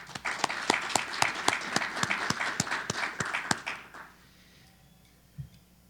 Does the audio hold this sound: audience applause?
yes